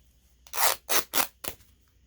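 Scissors snip through paper for a junk journal cover in four quick, close strokes, each a short crisp rasp separated by brief pauses, with no one talking.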